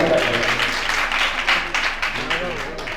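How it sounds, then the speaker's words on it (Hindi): Audience at a religious gathering with a Jain monk breaks into enthusiastic applause, dense clapping that holds steady throughout while a voice speaks over it. "उनके लिए भी जोरदार तालियां बजाते हैं"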